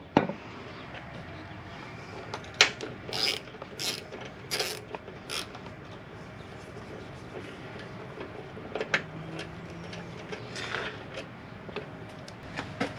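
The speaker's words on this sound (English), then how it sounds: "Takes a wrench." A wrench ratchets on a motorcycle rear shock bolt in short bursts of close, crisp clicking, with scattered metallic knocks between strokes and quieter pauses.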